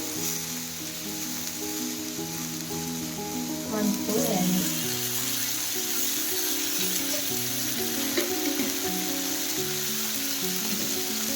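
Four tomatoes fry in a spoonful of oil for a spicy tomato chutney, giving a loud, constant sizzle with occasional stirring scrapes and bubbling pops close by.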